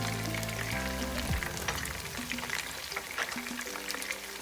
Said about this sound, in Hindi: चिकन हमारी फ्राई हो रही है।